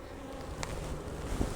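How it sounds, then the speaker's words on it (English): Honeybees swarm inside an opened beehive whose overwintered queen has failed, making a dense, continuous buzz close up that never lets up. "A lot of bees in here."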